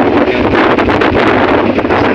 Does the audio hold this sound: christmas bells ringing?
no